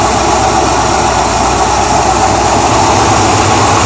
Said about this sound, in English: A little exhaust noise.